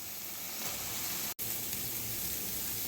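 Chopped tomato goes into onion, ginger and garlic frying with salt, a soft steady sizzle with a brief dropout partway through.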